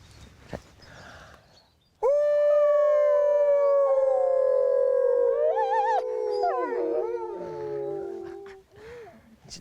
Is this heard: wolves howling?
yes